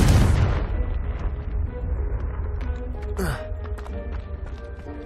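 In the Hogwarts Legacy video game, a Confringo blast spell sets off a loud burst at the start that fades into rumbling debris, followed by a brief whooshing sweep and scattered clatter.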